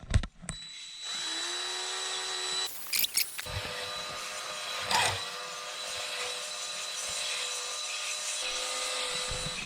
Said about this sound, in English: If you're gonna hone, you got to make sure you have the appropriate honing fluid.